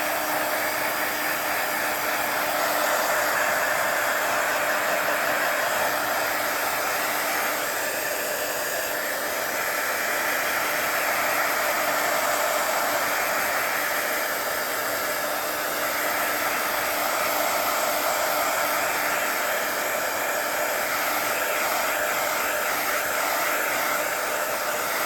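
Electric heat tool blowing hot air to set shimmering Chroma Mist spray on a papercraft card, a loud steady whirring hum that runs unbroken and close throughout, with no talking.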